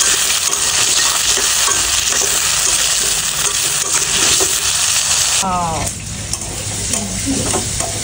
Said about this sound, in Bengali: একটু হলুদ আর লবণ দিয়ে একটু ভেজে নিই